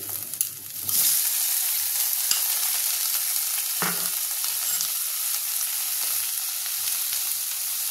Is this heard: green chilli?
yes